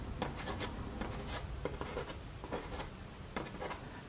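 Pastel stick rubbed in quick scratchy strokes across watercolor paper, a series of close, dry rasping bursts with short pauses between them and no voices.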